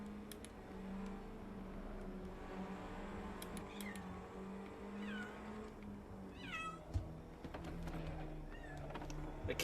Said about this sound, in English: The cats behind me really want attention